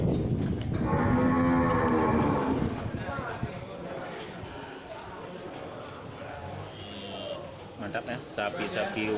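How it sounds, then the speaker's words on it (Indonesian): Cattle, including Aceh cattle, moo loudly up close, a long drawn-out low call, followed by a busy crowd murmur and scattered clatter of a livestock market. "Sapi-sapi unggul."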